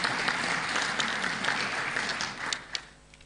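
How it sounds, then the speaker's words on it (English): Audience applause at a national parliamentary symposium as a committee chairperson joins, a dense steady clapping that carries on, then thins and trails off near the end with a few last claps. "Let's applaud him as he joins us"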